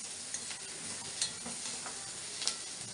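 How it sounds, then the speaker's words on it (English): Musk melon pieces stirred with onion in a hot pan for a subzi, a soft steady sizzle with a few light spoon clicks against the pan, faint and close, no talking. "I will add the musk melon pieces in it."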